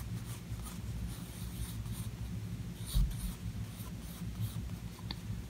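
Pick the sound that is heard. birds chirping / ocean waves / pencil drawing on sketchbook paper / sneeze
pencil drawing on sketchbook paper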